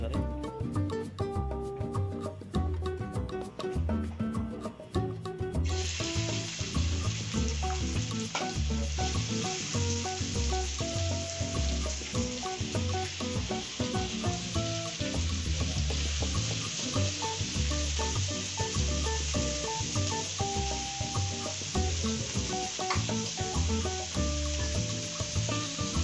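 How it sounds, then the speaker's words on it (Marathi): Finely chopped onion sautéing in oil on a tava, a loud continuous sizzle close by, with steady stirring and scraping throughout. "कांदा लालसर होईपर्यंत आपण त्याला तव्यावर फिरून घेणार आहे"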